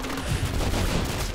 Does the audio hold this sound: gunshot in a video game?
yes